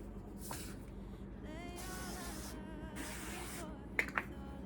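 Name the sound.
non-stick cooking spray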